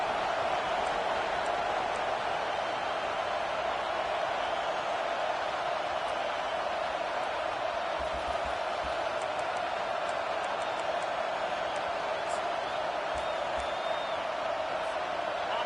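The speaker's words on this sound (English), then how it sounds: "The roar of the crowd trying to fuel this defense to keep them pinned in their own end." A stadium crowd roars continuously in a Madden football video game, a dense, steady wash of cheering and noise that holds at the same level throughout, with faint whoops scattered on top.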